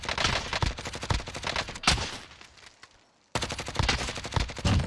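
Rapid gunfire in Call of Duty Warzone, loud dense bursts of automatic shots that fade briefly into a tail before a sudden, sharp resumption of fire.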